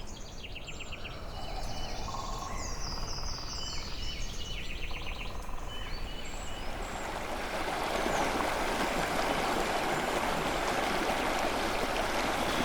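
A river flows on a summer evening during dry fly fishing, a steady rushing wash that swells louder in the second half, with birds chirping and calling over it early on and no talk.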